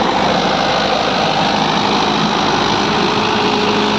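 A Mahindra 575 DI tractor's diesel engine runs steadily while plowing hard, compacted soil, a loud, close, continuous mechanical drone with a constant low throb and no speech.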